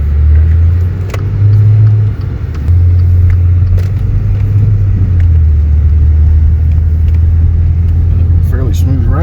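A 2014 Maserati Quattroporte drives along a road, its steady low engine and tyre rumble close and continuous, while people talk over it now and then.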